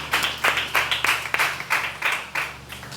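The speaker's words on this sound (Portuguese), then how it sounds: "Aplaudindo a Jesus." Church congregation clapping in steady rhythmic unison, about twelve even claps filling the room at a moderate level with no talk over them.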